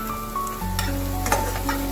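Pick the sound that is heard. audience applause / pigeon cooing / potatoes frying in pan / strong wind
potatoes frying in pan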